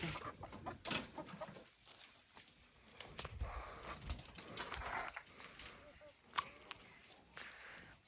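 Farmyard chickens cluck and shuffle around their coop door at evening, with scattered nearby clucks, footsteps and knocks, and people talking intermittently in the background.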